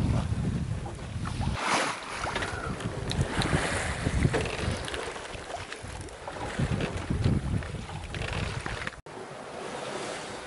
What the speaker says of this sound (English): Breeze now.